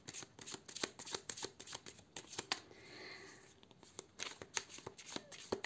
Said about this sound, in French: on va donc tirer une carte